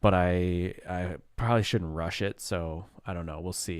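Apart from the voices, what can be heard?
No everyday noise stands out behind the speech.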